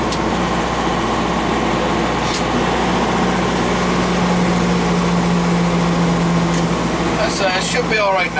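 A timber truck engine on a mountain pass road in Montana and Idaho, a steady low droning rumble with a sustained hum that holds for several seconds and changes near the end, heard from inside a vehicle.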